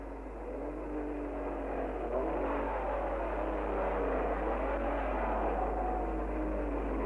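1959 British Grand Prix Formula 1 cars roar past together, engines revving and rising in pitch as they accelerate, loud and continuous with a muffled, vintage quality.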